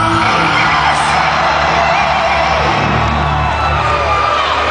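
A crowd at a live metal concert cheers and screams, a loud, dense, continuous roar of many voices with whoops and yells rising over it for several seconds.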